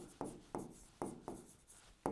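Chalk or marker writing on a board during a matrices math lesson, five or six sharp strokes tapped out at an uneven pace, close and quiet, with no talking.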